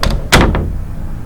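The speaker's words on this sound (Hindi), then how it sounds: "दरवाज़ा तेजी से हिला, जैसे कि कोई बाहर आना चाहता हो।" A heavy door bangs hard and rattles as if something is forcing it from inside: one sharp thud, then a louder slam with a brief shaking rattle that fades into a low rumble.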